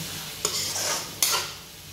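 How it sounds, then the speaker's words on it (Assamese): A spoon scrapes twice through spices sizzling in a hot pan for a goat meat curry, with a steady frying crackle between the strokes. "এতিয়া মছলাখিনি ভালকৈ ভাজ খোৱালৈকে এইখিনি ভাজি থাকিম।"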